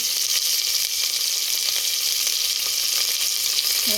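Vegetables hitting hot oil in a home frying pan, a steady loud sizzle and hiss with faint crackles throughout, close up and without talking.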